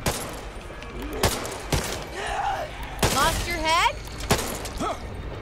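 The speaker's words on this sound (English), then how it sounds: "Fucking Uzi, man, I hate this gun." Uzi fire in the video game Back 4 Blood, a few short sharp bursts spaced apart, mixed with game noises and someone talking over them.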